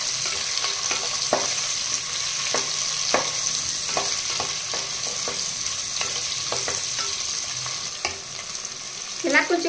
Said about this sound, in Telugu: ఇవన్నీ వేసిన తర్వాత చక్కగా వేగించాలండి.